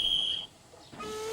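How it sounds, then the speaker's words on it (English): A railway guard's whistle gives a shrill, steady blast for a train departure in a classic Thomas & Friends episode, lasting under half a second before fading into quiet background and a faint later tone. "The guard blew his whistle and waved his green flag."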